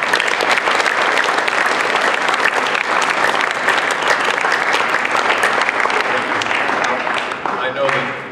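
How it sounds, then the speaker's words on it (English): A crowd of learners at a water department centennial event gives a round of applause as the mayor returns to the podium, loud dense clapping sustained for several seconds before tapering off near the end. "join me in a round of applause for Mayor Plaswellick as he returns to the podium"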